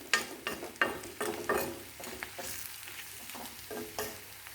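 Spicy country chicken fry sizzles in a pan while being stirred, with steady frying hiss and a rhythmic series of scraping strokes roughly every half second, close and clear, with no talking.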